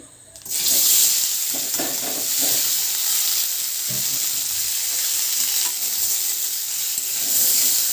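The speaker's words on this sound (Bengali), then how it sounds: "কড়ায় তেল দিয়ে দিয়েছি তেলটা গরম হয়ে গেছে এবার আলুগুলো দিয়ে দিই" Potatoes sizzle steadily in hot oil in a wok, a loud continuous frying hiss with faint stirring clatter throughout, no voices.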